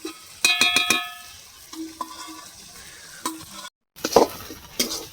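Pointed gourd frying and being stirred over high heat in a pan, with sharp spoon scrapes and clinks in quick bursts over a steady, soft sizzle, plus a brief dropout midway.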